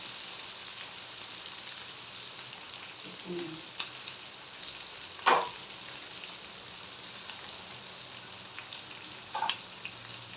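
Onions and curry leaves sautéing in a pan give a soft, steady sizzle at low level, with a few brief clinks and stirring scrapes scattered through it.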